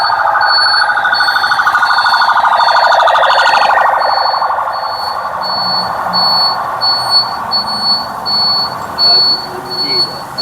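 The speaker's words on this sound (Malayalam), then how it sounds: "ഒരു ആംബുലൻസ് പാഞ്ഞു പോയി" A loud wailing ambulance siren sweeps past, then fades into the distance, while a steady high beeping repeats throughout, heard from a scrap shop.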